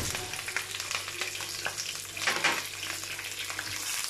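Oil sizzles and crackles steadily as chillies and garlic fry in a pan, with occasional stirring scrapes, fairly quiet and close.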